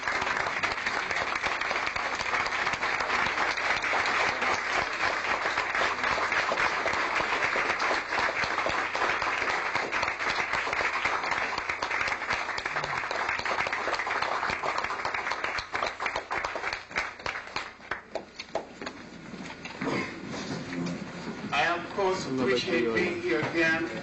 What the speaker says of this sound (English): Let's stand up and give him an applause.